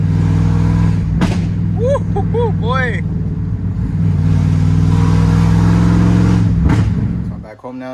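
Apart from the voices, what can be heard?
pickup truck exhaust revving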